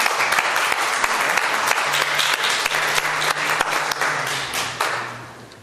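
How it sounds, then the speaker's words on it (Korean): A church congregation at a Sunday worship service breaks into warm, sustained applause to welcome a visiting family. The clapping is dense and steady, then fades out toward the end, with a faint voice underneath. "박수로."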